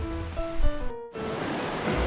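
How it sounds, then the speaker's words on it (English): Heavy rain pours down outside a woodshop as a steady, dense hiss that follows a brief tonal sound and then continues alone. "Now it's coming down. There we go. Love the rain."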